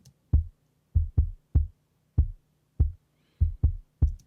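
Punchy kick drum hits land one after another in an uneven pattern, each with a gritty, slightly rough attack and a short low thump.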